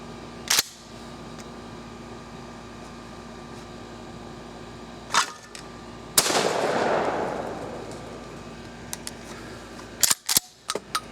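Several loud shots from a Remington 870 pump-action shotgun fitted with a modified choke, each sharp blast spaced seconds apart with a longer echoing report near the middle and a quick pair of cracks near the end.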